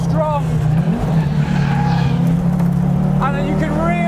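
Audi Quattro S1 Group B rally car driven flat out, its engine a loud, steady, strained drone throughout with rising and falling pitch sweeps as it works through the revs, heard from close by.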